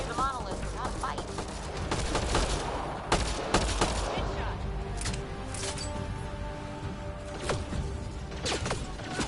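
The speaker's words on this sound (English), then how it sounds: "Whoa, bullets." Rapid gunfire bursts from a shootout in the sci-fi video game Mass Effect: Andromeda, sharp repeated shots crackling over a busy mix of game effects, with a voice speaking in between.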